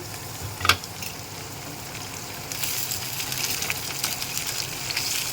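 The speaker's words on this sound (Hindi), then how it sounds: "ये सारे झींगे मैं इसमें डाल दूँगी" Prawns frying in a pan of browned onions give a steady close sizzle, with a sharp clatter early on as they hit the pan and a brighter, louder hiss building toward the end.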